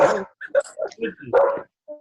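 Close, loud dog barks come in a short burst of several yaps and yips, with voices heard around them.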